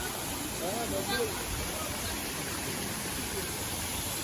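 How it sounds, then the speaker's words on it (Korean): Steady, loud rushing of a warm-water waterfall at Thap Ba hot spring spa in Nha Trang fills the clip, a continuous broadband roar with no pauses. "그리고 여기 폭포도 있는데 폭포도 따뜻한 물이에요."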